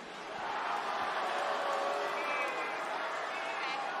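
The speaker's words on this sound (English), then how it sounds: "I'm loving the fact that you're booing him too" A wrestling arena crowd at a Raw event rumbles with a sustained, dense roar of booing and jeering, steady and loud across the whole stretch, without any distinct voice standing out.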